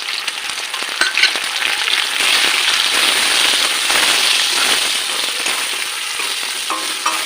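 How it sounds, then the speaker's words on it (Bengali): Green chillies with salt, turmeric, cumin powder and red chilli powder fry in a pan, giving a loud, dense, crackling sizzle that runs continuously, with small sputtering pops throughout. "তিনটে কাঁচা লঙ্কা দিয়ে দিলাম, লবণ হলুদ জিরের গুঁড়ো আর লঙ্কার গুঁড়ো মশলাগুলো দিয়ে দিলাম।"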